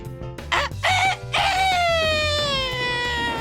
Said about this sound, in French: le coq se mit à chanter à plein poumon.